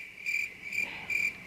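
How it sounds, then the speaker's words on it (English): Crickets chirp in three clear, evenly spaced bursts, each a bright high trill standing alone against a quiet background with no voices. "Hopefully I will have found a clip of crickets for then"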